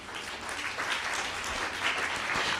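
A church congregation applauds, a dense, continuous wash of many hands clapping together, steady and fairly loud for a few seconds.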